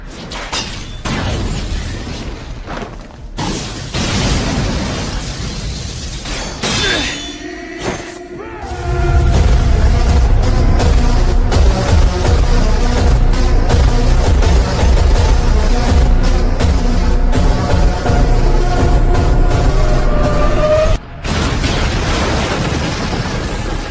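A sudden explosion bursts out and gives way to a loud, sustained roaring rumble with crackling debris, following quieter scattered noises.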